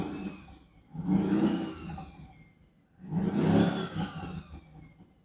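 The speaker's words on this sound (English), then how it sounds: "So you can hear the turbos," Twin-turbo Shelby F-150 engine revved twice in two rising surges, each with a thin whistling turbo whine over the engine drone, settling quieter between them; no talking.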